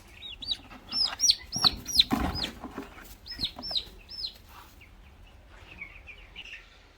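Young broiler meat chickens on a poultry farm cluck and peep in quick, overlapping bursts. A denser flurry comes midway, then the calls thin out to scattered, fainter chirps toward the end.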